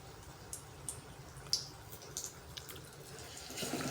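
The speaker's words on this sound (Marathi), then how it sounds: "हळू गॅसवर तळायची." Bitter gourd fritters frying in oil over low heat, a faint, soft bubbling with scattered small pops and crackles.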